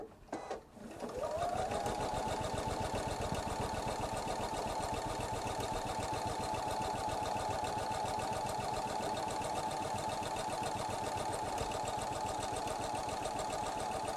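A sewing machine stitches straight seams on a quilt made from a jelly roll, running steadily and continuously at close range with an even mechanical whir after a brief start.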